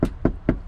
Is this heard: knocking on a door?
yes